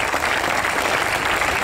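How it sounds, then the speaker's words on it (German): At a Green Party federal election campaign rally in Cologne, an audience breaks into loud, dense, continuous applause with no voices standing out. "Und deswegen ganz, ganz fetten Applaus"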